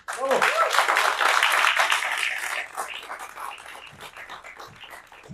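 An audience claps for the featured poet at an evening book presentation, a dense burst of applause that fades after a few seconds as a voice begins speaking.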